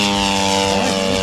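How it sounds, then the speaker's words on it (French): Two-metre radio-controlled Tiger Moth biplane model with a 26 cc engine, a scale replica of a 1916–1917 aircraft, flying at an RC meeting; a steady, loud buzzing engine drone with strong harmonics, pitch shifting slightly as it passes. "Aujourd'hui je vole avec le Tiger Moss de 2 mètres"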